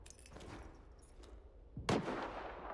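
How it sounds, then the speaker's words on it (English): Faint gunfire in S.T.A.L.K.E.R. 2 cracks in the distance, a couple of soft muffled shots early and one sharper louder burst near the end over a low ambient rumble. "Something seems to be shooting."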